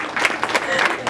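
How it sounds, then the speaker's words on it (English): A brief burst of crowd applause at a beauty pageant event, many hands clapping at once, loud and close, with no talking. "Give me a round of applause for Clyde."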